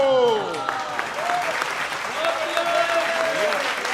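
An audience claps throughout, a steady bed of applause, while a voice speaks in an animated, sing-song way over it.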